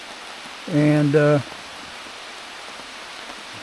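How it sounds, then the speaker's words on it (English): Rain falls at the White Rocks campground as a steady, soft, even hiss throughout, with someone briefly speaking over it. "Maybe you can hear that. It's raining."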